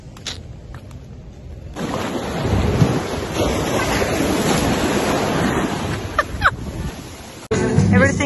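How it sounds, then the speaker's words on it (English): Big sea waves crash and roar continuously on Yalong Bay beach in Sanya, with strong wind buffeting the microphone throughout; the surf swells louder midway and stays dense, with a sharp gust near the end. "Today we have big waves."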